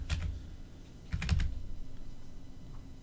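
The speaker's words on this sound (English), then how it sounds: "typing some year for that." Quick bursts of keystrokes on a computer keyboard come in two short clusters, close and fairly soft, with quiet gaps between them.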